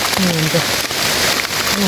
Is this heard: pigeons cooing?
no